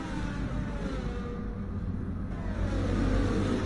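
Racing car engines in the video game F1 23, a continuous, loud, droning rumble of cars running at speed that rises slightly near the end, with no voices.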